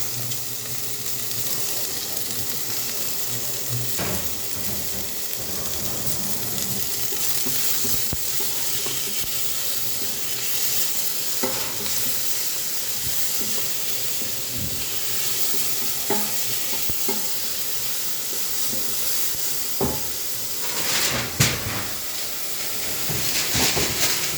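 Tomatoes sizzle in a frying pan while being stirred, a steady close hiss of frying broken by repeated scraping and clattering stirs, a few sharper knocks near the end, with no talk.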